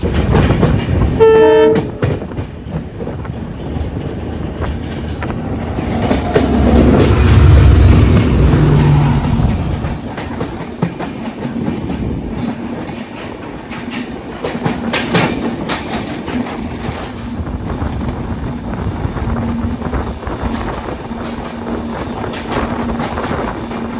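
A train horn sounds briefly, then the Jammu Tawi–Bandra Express hauled by a WP48 locomotive rumbles past with rhythmic clickety-clack of wheels and a squeal, loud and close before fading.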